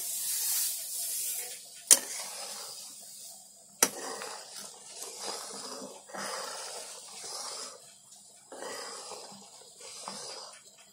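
Water and milk with ghee coming to a boil in a pot for semolina sheera, an Indian fasting dish: a soft continuous bubbling hiss, close and low, with a couple of sharp clicks and no talk.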